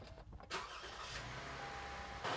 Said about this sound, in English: I'm going to just start up the car and make sure that everything's running correctly